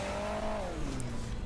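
A race car engine in the mobile game Hill Climb Racing 2 revs loudly, its tone holding and then sliding down. The synthetic motor drone runs continuously through the short moment with no talk over it.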